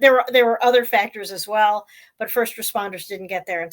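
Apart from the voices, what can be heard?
No everyday noises stand out.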